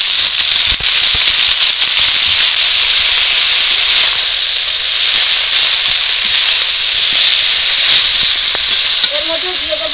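Washed, chopped note greens, potato and eggplant hit a hot pan for a prawn chorchori, giving a loud, steady sizzle and hiss with scattered crackles throughout.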